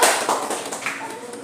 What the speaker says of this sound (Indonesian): tepuk tangan lagi untuk kelompok 1